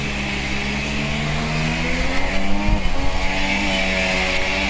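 Formula One race car engines in the F1GP racing video game, several high-pitched whining engines droning together with rising and falling pitch sweeps as cars pass, loud and continuous with no talk.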